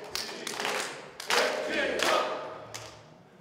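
Crowd cheering and clapping at a Dale Carnegie CEO class welcome party in Daegu, with bursts of applause and shouts rising and falling in a busy room, loud and close, with some voices mixed in.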